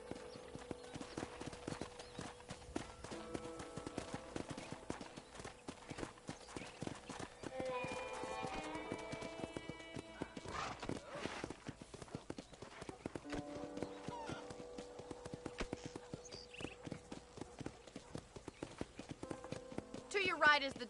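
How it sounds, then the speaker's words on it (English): Horse hooves clip-clop steadily through a ride in the Red Dead Redemption video game, a continuous galloping rhythm under spoken dialogue and tonal background music. "let's see if you can still ride a horse"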